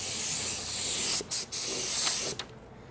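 A spray gun lays a primer coat over a car body repair area in a steady, close hissing burst, broken by two short trigger releases and a final stop near the end.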